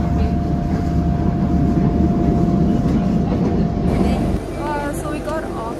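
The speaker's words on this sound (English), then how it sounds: "So we got off of the train." A train rumbles and rattles at a station on the way to Montserrat, a loud, steady rolling noise that drops off toward the end as ambient sounds and faint voices remain.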